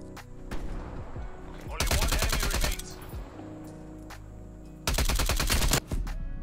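Submachine gun fire in Call of Duty Black Ops Cold War, heard as two loud sustained bursts of rapid shots separated by quieter stretches with scattered single shots and faint game sounds.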